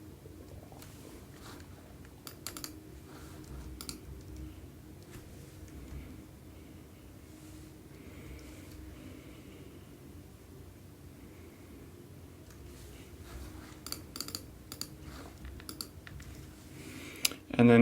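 Computer keyboard typing in a terminal, faint scattered key clicks in short bursts over a quiet background hum, with a louder click cluster at the end.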